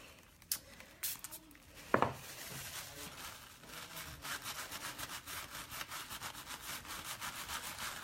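Dry, scratchy rubbing as a chalk paste transfer is worked onto a surface, a steady series of short strokes up close, with a few sharper taps early on and no talking.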